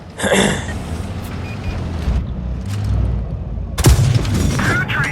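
Tank cannon fire in a tank video game: a loud booming shot near the start and another sharp blast toward the end over a continuous engine rumble.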